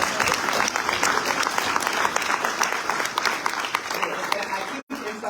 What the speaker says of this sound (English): I'm gonna give a clap for that